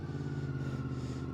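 Honda VFR fifth-generation motorcycle on a riding run, its engine droning as a steady low hum with a constant, even roar throughout, close and fairly loud with no talking.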